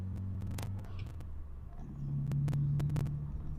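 A car engine idling with exhaust running through a catalytic converter that dulls its tone, a low steady rumble that steps up and grows louder in the second half, with no talk.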